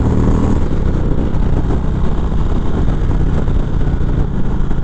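2019 Indian Springfield Dark Horse motorcycle in Sport mode pulling hard from low revs, a steady loud engine roar with wind noise, continuous throughout.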